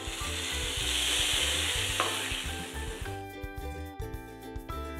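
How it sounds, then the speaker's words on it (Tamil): Mustard seeds, urad dal and fennel tempering in sesame oil give a loud, steady sizzle with some faint popping. Near the end a sharper, crackling burst joins in, with no voices. "தாளிக்கிறதுக்கு நல்லெண்ணெய் விட்டுருக்கேன் கடுகு உளுத்தம்பருப்பு கொஞ்சம் கொஞ்சமாக சோம்பு போட்டிருக்கேன்"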